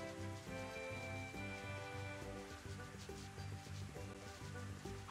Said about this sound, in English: I'm hoping to find chests as I run around in the rain